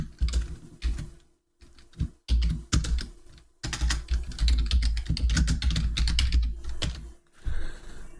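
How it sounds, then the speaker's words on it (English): Computer keyboard typing while editing a source file for Arduino data logging, quick bursts of key clicks close up with a couple of short pauses, no talking. "So let me just type that in."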